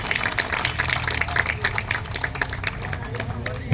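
Rally audience breaking into applause to welcome a speaker, a dense wash of steady clapping from a crowd, with murmuring voices mixed in and a louder thump at the very end.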